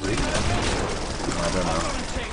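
Continuous gunfire in Killing Floor is aimed at a crawler zombie, a dense, loud stream of rapid shots with voices talking over it.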